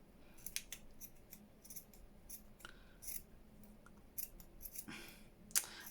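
Scissors snipping through fabric, a series of short crisp cuts at an irregular rhythm, close and fairly quiet with no talk.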